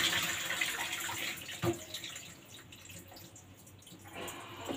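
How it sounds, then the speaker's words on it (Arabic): Water splashes and trickles softly as washed carrots, potatoes and onions are drained, with a brief clatter near the middle; the sound is faint and no one speaks. "هصفيهم من الميه انا غسلاه"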